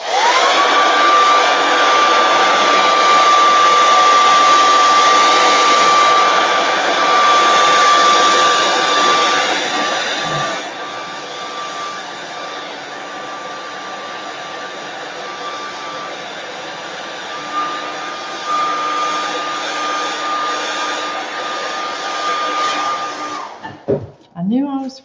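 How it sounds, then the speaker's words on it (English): A hair dryer blows on wet paint on a 4x4 door hanger, a loud steady whine and rush that drops to a lower setting partway through, then clicks off near the end. "I'm going to hit it with a hair dryer because it's important to make this really pop."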